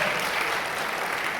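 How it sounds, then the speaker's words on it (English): A steady, dense wash of audience applause at a high school stage hypnosis show, many hands clapping together at an even level throughout with no pause. "Give her a big round of applause"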